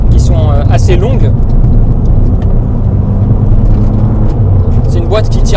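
Ford Fiesta ST Mk6 2006 with a 2.0 Duratec petrol engine revving in long pulls while driving, a steady loud cabin drone with rising tones at start and end.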